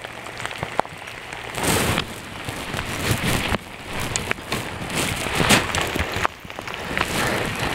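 Heavy rain pours steadily, a dense close hiss of drops pattering on surfaces that surges in waves for several seconds, with no voices.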